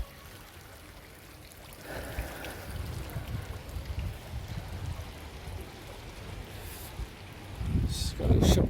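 Water from a waterfall beside outdoor steps rushes and splashes in a steady, moderately faint wash that swells louder near the end, with a few brief sounds over it.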